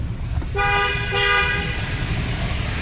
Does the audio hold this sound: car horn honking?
yes